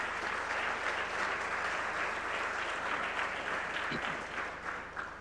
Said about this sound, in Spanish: El aplauso para él, repetido.